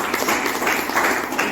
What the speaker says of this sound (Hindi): उन सभी व्यक्तियों के लिए जोरदार और शानदार तालियां